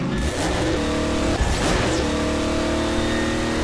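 A vehicle engine in Half-Life 2 drones steadily and close, with a rising rev and a brief bump midway, tonal whine layered over rumble throughout.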